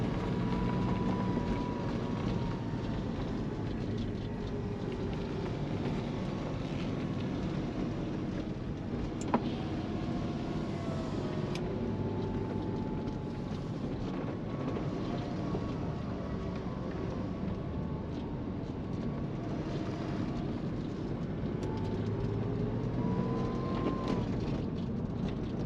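A 1999 Porsche 911 Carrera of the 996 generation with its fuel-injected flat-six, heard from inside while driving: a steady engine drone with rising and falling pitch through the gears, continuous and close, with wind and road noise beneath.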